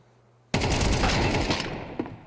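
Sudden loud burst of rapid automatic gunfire in an ESL Challenger League Counter-Strike match, a dense rattling volley starting abruptly after a quiet moment and tapering off within two seconds.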